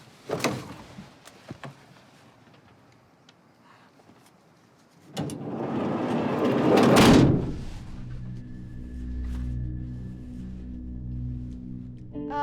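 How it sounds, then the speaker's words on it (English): A van's sliding door is tugged open, a loud rough scraping slide rising over a few seconds, followed by a steady low engine-like hum; scattered small knocks and clicks come before it. "slide that door open, take a peek"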